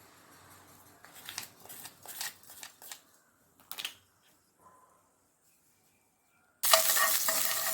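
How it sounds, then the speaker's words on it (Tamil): Curry leaves, chili and onion go into hot oil. A few scattered scrapes and rustles come first, then a loud, dense sizzle bursts up and holds near the close, with no talking. "அப்புறம் கருவேப்பிலை, மிளகாய், வெங்காயம் போட்டு தாளிச்சுக்கணும்"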